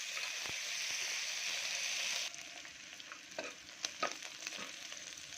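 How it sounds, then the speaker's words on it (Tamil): Shallots and curry leaves frying in oil for a country chicken curry, heard as a steady close sizzle that drops in level partway through and gives way to softer crackles and stirring clicks. "கட் பண்ணி வச்சு சின்ன வெங்காயம், கருவேப்பிலை போட்டு தாளிக்கிறோம்."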